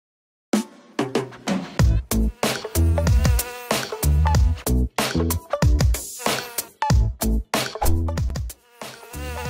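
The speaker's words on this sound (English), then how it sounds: "Ah, the familiar sound of the summertime pest, the mosquito." A summertime mosquito buzzes loud and close in a continuous whine, broken by frequent sharp cuts and bursts, with no talking.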